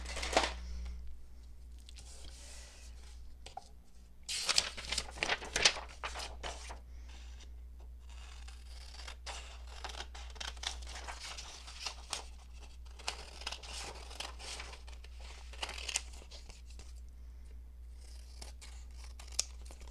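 Paper scissors snip through copy paper for a journal pocket, with repeated crisp cuts and rustling paper handling close by over a steady low hum, no one talking.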